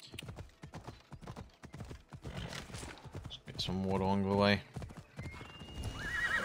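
Horse hooves clip-clop along with a loud whinny near the middle, ridden in Assassin's Creed Odyssey on PC, with someone talking over most of it.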